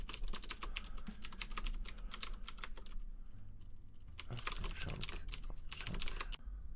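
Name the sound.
typing on a computer keyboard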